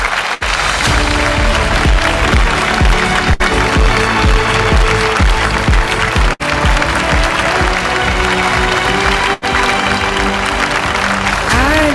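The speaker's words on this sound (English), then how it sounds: "let the applause continue." Sustained applause fills an awards ceremony hall for a finance excellence awards honouree, a thick, continuous wash of clapping from a large audience layered over a thumping musical beat that keeps time underneath.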